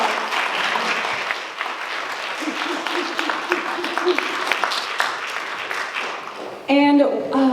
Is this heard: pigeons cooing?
no